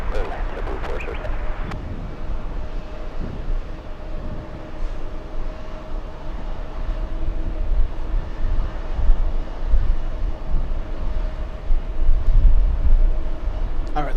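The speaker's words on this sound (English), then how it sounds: "787 is getting close" A heavy Boeing 787 on approach to land at Kennedy, a broad low engine roar that holds steady and swells slightly toward the end, with background chatter from nearby people.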